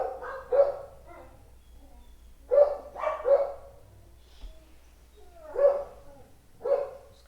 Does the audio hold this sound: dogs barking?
yes